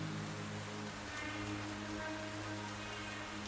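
Steady rain patters on surfaces at a gas station, a continuous soft even hiss of drops, faint and unbroken.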